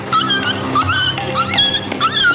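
Aggressive dog known for attacking other dogs whimpering and yipping continuously, high whiny cries close up and fairly loud.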